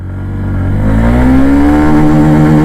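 A Honda Shine 100 DX motorcycle accelerating in first gear, its engine note climbing loud and close in pitch as the revs build over a few seconds, with no speech.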